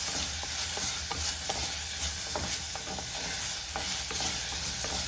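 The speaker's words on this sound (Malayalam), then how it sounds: "എല്ലാം കൂടെ ഒന്ന് നന്നായിട്ട് വഴറ്റിയെടുക്കുക" Crushed ginger and aromatics sauté in a pan for a Kerala-style ash gourd dish, a soft sizzle under repeated, rhythmic spoon stirs and scrapes against the pan.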